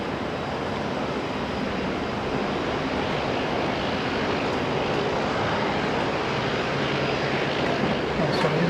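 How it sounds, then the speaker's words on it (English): An Air New Zealand Boeing 787 Dreamliner going past, its engines a loud, continuous roar that stays fairly even across the whole stretch. "the New Zealand Dreamliner for Melbourne"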